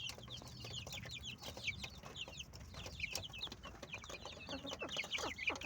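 A mother hen clucks in a steady stream of soft calls while chicks chirp busily around her, close by and continuous.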